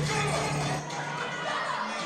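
A small indoor wrestling show crowd in Sedalia, Missouri shouts and cheers at a moderate distance, a blended roar of voices with a low rumble that eases after the first second.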